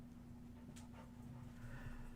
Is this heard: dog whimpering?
yes